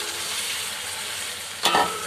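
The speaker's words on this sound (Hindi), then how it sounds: "अच्छे से मिक्स करेंगे।" Chicken and green chillies are stirred in a frying pot for a biryani, with a steady soft sizzle throughout and a brief louder scrape of the spoon near the end.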